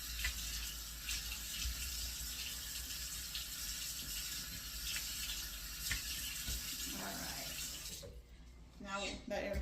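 Tap water runs steadily in a bathroom while surfaces are rinsed, a broad continuous wash that stays fairly constant before thinning out and stopping near the end.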